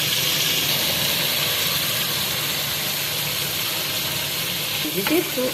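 Chickpeas added to fried masala for aloo chole, a steady broad sizzle with a low hum underneath and a short burst of clatter near the end.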